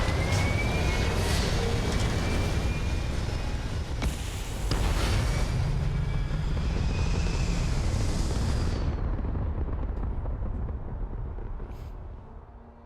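Spaceship liftoff in the video game Starfield: a loud, sustained broadband engine roar with rumbling low end, steady for about nine seconds, then thinning and fading as the craft climbs away.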